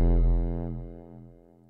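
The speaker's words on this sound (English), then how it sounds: "it's a hardware synth micro Korg with a bass drop that I made" A distorted bass drop from a Korg microKorg hardware synth: one deep, buzzing, harmonic-rich tone that sustains alone and slowly decays over under two seconds, with a faint pulsing wobble.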